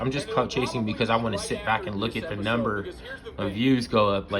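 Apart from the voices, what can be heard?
No distinct noise like a dog, phone or traffic.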